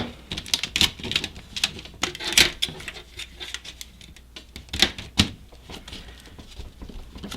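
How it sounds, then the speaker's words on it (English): Thin sheet material for an ultralight DIY reflector oven being handled and folded along its raw edge, giving a string of close, sharp crinkling crackles and taps in irregular bursts, with no voices. "So I'm going to fold it once, get my fingers under the edge to start it."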